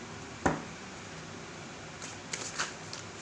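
Tarot cards being handled during a reading: one soft, close slap of a card, then after a pause a few quick papery riffles, quiet and with no talk.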